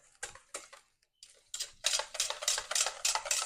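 A utensil stirring thick banana pudding filling in a pot, with rhythmic scraping clinks, sparse at first then a fast steady run of close, fairly loud strokes, no talking.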